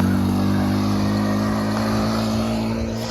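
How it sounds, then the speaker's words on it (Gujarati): A motorcycle roars by loudly and close, a steady, heavy engine drone that holds for a few seconds before easing slightly as it moves off. "આ એક બાઇક આવે છે, જોરો શોરો છે"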